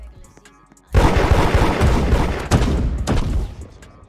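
Gunfire in the video game Da Hood, starting abruptly after a quiet moment as a dense, loud burst of rapid shots that continues with heavy cracks to the end.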